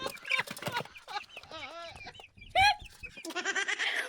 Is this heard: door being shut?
no